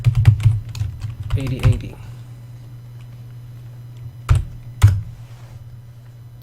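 Typing on a computer keyboard: quick bursts of clattering keystrokes at the start, then a pause and two isolated sharp key presses, with a steady low hum underneath and a voice speaking briefly.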